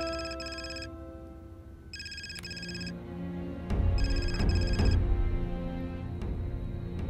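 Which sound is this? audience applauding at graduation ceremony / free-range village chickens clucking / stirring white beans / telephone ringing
telephone ringing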